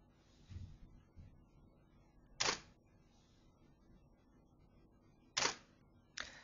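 Camera shutter of a DSLR releasing during a time-lapse under computer camera control, three sharp clicks spaced a few seconds apart over quiet room hiss, with faint handling noise early on.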